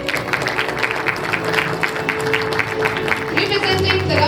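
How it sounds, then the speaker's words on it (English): Applause from students and staff at a school investiture ceremony, a steady wash of clapping held throughout under a busy hall with voices, and a low hum rising near the end. "A huge round of applause while they pose."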